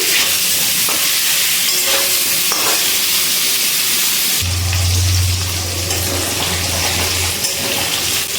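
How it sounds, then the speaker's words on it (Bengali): Cauliflower florets, seasoned with salt and turmeric, frying in hot oil, a loud, steady close-up sizzle with occasional stirring clinks and a low rumbling stretch partway through, no talking. "এবার ফুলকপিগুলো খুব ভালো করে ভেজে নিচ্ছি"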